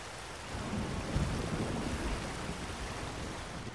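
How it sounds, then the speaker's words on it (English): Steady roaring water rush from a waterfall in a samurai video game set during a Mongol siege, a broadband wash with low rumble that stays constant and fairly loud throughout. "Under the waterfall."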